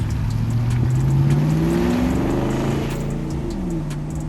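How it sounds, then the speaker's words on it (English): A lifted Ford F-250 gas truck engine idles and revs through a deep, throaty Borla S-Type exhaust, pitch rising and falling, loud and close, with no one talking. "the Borla S-type that you heard earlier sounds great with the gas engine"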